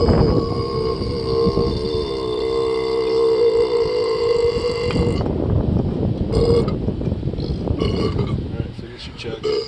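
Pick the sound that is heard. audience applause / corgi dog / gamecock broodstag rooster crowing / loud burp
loud burp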